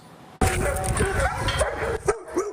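A rescue dog at an animal rescue society barks and yips in loud, close, rapid bursts that break in suddenly after a quiet moment.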